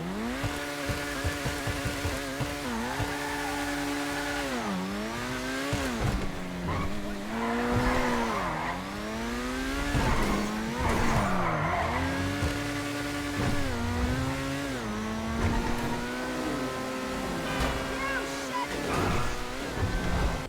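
An Overflod Zeno supercar in GTA Online revs hard and loud in repeated rising and falling sweeps, with tire squeal and skidding mixed through the steady engine roar.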